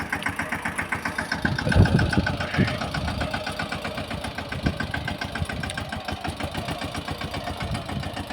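A Yuvraj tractor engine chugs steadily while harrowing a pigeon pea field in Gir, a close, rhythmic mid-pitched thrumming that swells briefly under load and then settles, with no voices.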